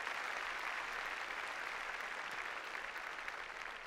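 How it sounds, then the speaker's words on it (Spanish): A church congregation claps together in a sustained, dense burst of applause that stays even and fairly faint for several seconds. "¡Es un aplauso al Señor!"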